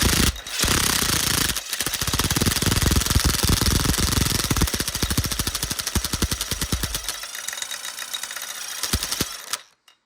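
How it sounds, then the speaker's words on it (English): A KX250F dirt bike engine with a wobbly flywheel spinning up to speed, giving a loud, rapid mechanical chatter that tightens into a fast rhythmic hammering, then cuts off abruptly near the end. "it's causing there to be like a shakiness in the flywheel here"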